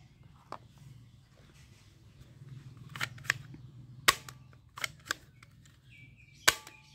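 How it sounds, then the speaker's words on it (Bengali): A toy air shooting gun fires a series of sharp, sparse cracks, several loud snaps spaced irregularly over a low background murmur, with no talking. "এ আইআর এক্সপার্ট শুটিং গান।"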